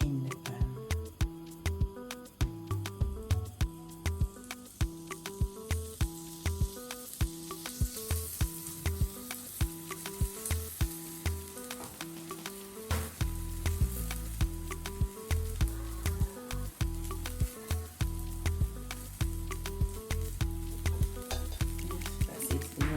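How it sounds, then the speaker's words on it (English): Pancake batter sizzles steadily in a frying pan, with constant crackle and hiss and repeated clinks and taps from a utensil throughout. "Pancake in the pan."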